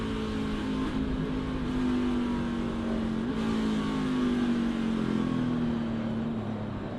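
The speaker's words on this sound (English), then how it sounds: "You heard him downshift trying to get the car slowed down" NASCAR Xfinity Series stock car racing at Indianapolis Motor Speedway, engine note steady and loud then stepping down as the driver downshifts to slow, with no voices over it.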